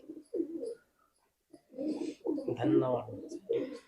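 Soft pigeon cooing in short rounded bursts, close by, with a pause in the middle and a louder, busier stretch toward the end.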